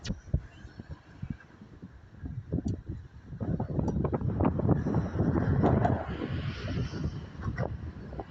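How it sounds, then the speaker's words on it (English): Wind gusts across a microphone on the Sydney Harbour foreshore near Luna Park, with low rumbling buffets that swell in the middle and then ease, fairly faint and broken up, with no speech. "You get blown by the wind."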